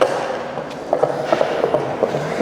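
A skateboard squeaks in short, repeated chirps over a rolling rumble, recorded outdoors while skating at Southbank in London.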